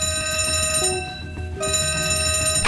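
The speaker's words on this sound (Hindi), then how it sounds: "फाइनली 10:33 पर एक जनरल इमरजेंसी अलार्म रेज किया जाता है" A general emergency alarm sounds aboard the Costa Concordia cruise ship as a loud, continuous electronic ringing tone with steady layered pitches and a brief dip midway.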